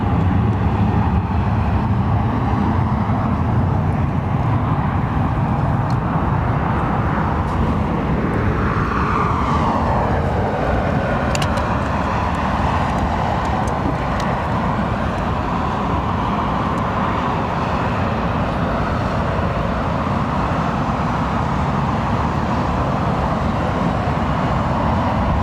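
A TAP Airbus A321neo airliner at Heathrow gives off a loud, steady roar, its engine noise filling the scene continuously with a faint whine sweeping through midway.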